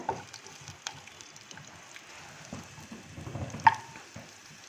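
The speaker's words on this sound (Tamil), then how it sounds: "வெங்காயம் நல்லா வதக்கிட்டு இருக்கும்போது ஒரு நாலு பல் பூண்டு சேர்த்துக்கோங்க" Soft sizzling and stirring of onions and garlic sautéing in a pan, a low steady frying crackle with occasional scrapes and a sharp clink near the end, no voices.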